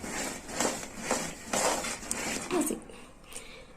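A spoon stirs ground spices into a thick, sticky gond pak mixture in a pan, making repeated loud scraping strokes with a clattering rhythm that fades toward the end.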